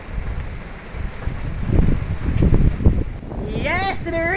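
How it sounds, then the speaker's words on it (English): Wind blows through trees during Hurricane Beryl, a broad rushing gust that swells and buffets the microphone, then eases as a voice briefly sounds at the end. "There's some wind in the trees."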